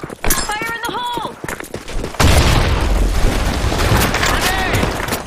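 A grenade detonates in a sand-storm capture-the-flag round of a first-person shooter, a sudden loud boom that rolls into a long, heavy rumble after a burst of shouted voice-over and game announcements.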